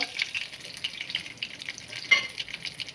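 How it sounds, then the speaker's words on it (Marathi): Mustard seeds crackling in hot oil while a Maharashtrian maswadi rassa curry base is tempered, a steady close sizzle with scattered sharp pops, one louder burst near the end. "ही मोहरी घातलेली आहे मोहरी चटचट करावं लागणार"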